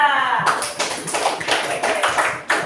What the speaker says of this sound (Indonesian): Tepuk tangan untuk Aziza.